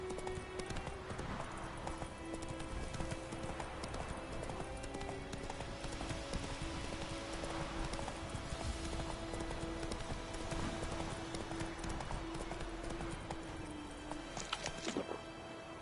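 Roach, the horse in The Witcher 3, gallops in a steady, rapid clip-clop of hooves that runs the whole time over a dense game soundscape, with a tonal music or ambient layer underneath.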